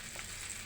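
Frozen food sizzles and fries in a pan as it is turned, a steady, close hiss of hot oil that lasts under a second.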